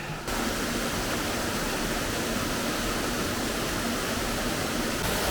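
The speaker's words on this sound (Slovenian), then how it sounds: "Evo, spet slapovi." Waterfalls in the Poličanka gorge, a loud, steady roar of falling water that fills the whole scene without pause, close by and unbroken.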